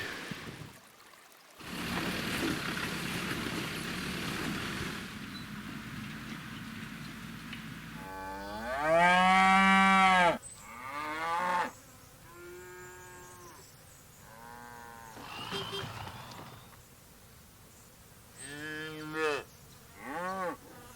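Several cattle moo at the Culvert River in Cape York, some long and loud, others shorter, near and far, over a steady rush of flowing water or wind.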